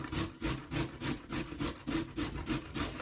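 Carrots are rubbed back and forth over a metal grater in quick, steady rasping strokes, about three per second. The scraping is close and moderately loud, with no talk.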